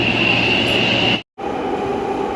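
A Taipei MRT Orange Line metro train runs with a steady, loud rolling rumble and high whine, cut by a brief near-silent gap before the even running noise resumes; no one speaks.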